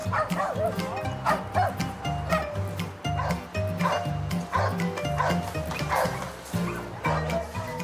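Several dogs at an animal shelter in Marseille bark and yip excitedly over busy background music, the barks coming in quick irregular bursts throughout.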